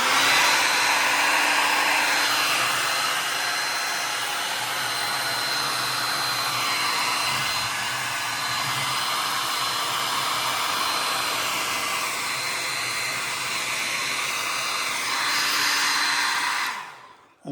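A hair dryer blows steadily on wet paint, a loud continuous whooshing whine held close for the whole stretch before cutting off abruptly at the end.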